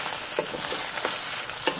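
Eggs fry in a hot wok for beef fried rice, a bright continuous sizzle broken by quick stirring scrapes. The cooking sounds are close and steady, with no talking.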